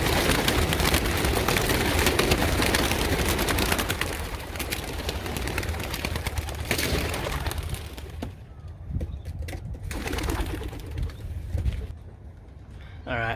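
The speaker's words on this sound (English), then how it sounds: "let's get these birds in the sky." Pigeons released for a 10 km training toss, a dense flurry of wingbeats and bird activity dominating the first half before thinning into sparser flapping and scattered calls outdoors.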